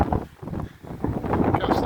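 Wind buffeting the microphone on a coastal walk from Westwood to Margate, with a steady rushing roar that rises and falls in gusts close to the mic.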